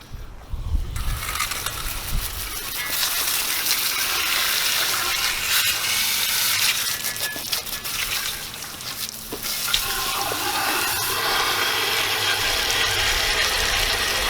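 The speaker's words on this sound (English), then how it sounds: "Watch out, I'm gonna spray that way." Steady hiss of a water sprayer blasting a Honda K24 engine block, loud and close, with spattering and dripping throughout; no talking.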